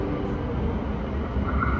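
A busy train station in Wroclaw fills the stretch with a dense, loud rumble of trains and crowd noise, steady throughout with no clear talking.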